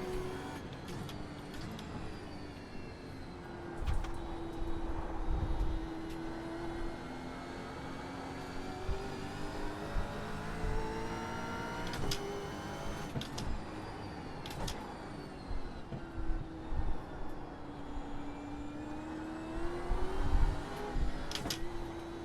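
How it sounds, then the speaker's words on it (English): A Gen 3 Camaro race car in the iRacing sim at Bathurst's Mount Panorama drones steadily, its engine note rising and falling through gear changes over a long run, with a few sharp clicks and no talk. "I love the sound of the car."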